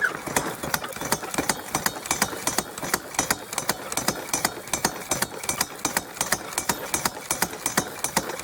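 A small drywasher engine runs steadily with a fast, regular thumping pulse and metallic rattle, loud and close throughout, with no talk over it.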